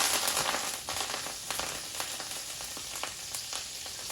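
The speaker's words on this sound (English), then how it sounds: "Now the parsley is gonna flash fry all the moisture out of the parsley" Parsley stems flash frying in hot oil while making German schnitzel: a steady crackling sizzle with sharp pops scattered throughout, close and with no voices.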